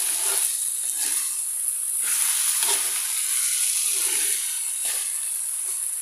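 Malabar spinach frying in hot oil with dried chilies, a loud continuous sizzle and hiss with periodic swells as the greens are stirred in the pan, close up and without speech.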